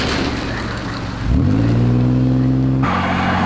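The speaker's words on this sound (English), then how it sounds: "So this has got a V6 warble going on." A KITT Knight Rider car's V6 engine idles, then revs up sharply into a loud, steady warbling drone up close before dropping back.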